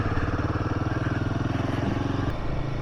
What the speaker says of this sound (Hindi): बाइक वाले को जाने दे रहे हैं